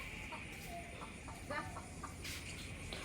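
Chickens being chased into their coop at dusk cluck softly in a few short, scattered bursts over quiet rural background noise.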